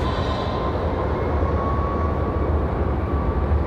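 Southwest airliner departing an airport runway, a continuous broad jet roar with a faint steady whine, constant loudness, no voices.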